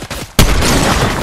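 A single loud sniper shot bursts out in Fortnite Zero Build, a sharp crack followed by a long rolling echo that fills the rest of the moment after a quiet lead-in.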